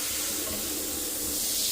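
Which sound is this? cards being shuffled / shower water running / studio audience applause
shower water running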